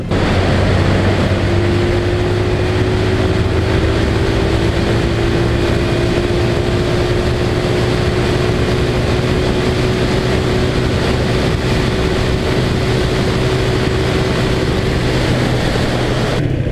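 A Vento Rocketman 250 cc motorcycle accelerates along a road, its engine tone climbing in a long, steady sweep beneath loud, constant wind roar.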